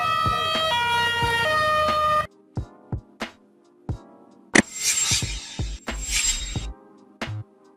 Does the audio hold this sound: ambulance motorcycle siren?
yes